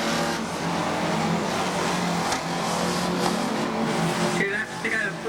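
Unlimited banger racing cars at Ringwood Raceway roar continuously around the oval, engines revving hard with passing cars and short tyre chirps toward the end, under faint trackside commentary.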